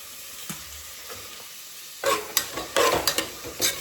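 Tomatoes being stirred as they fry in a pan, the first half quiet and then a burst of loud sizzling with scraping stirs in irregular bursts, close up and with no voices.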